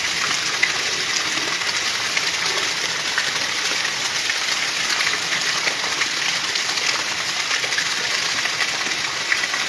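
Heavy afternoon rain pours down in a dense, loud, unbroken hiss with a faint patter of drops, steady from start to finish with no voices.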